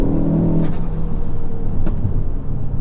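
A tuned Mk4 Ford Focus ST at Stage 2 with 410 PS rumbles loudly from close range, its engine easing off with intake whoosh and brief turbo flutter chirps, no voices.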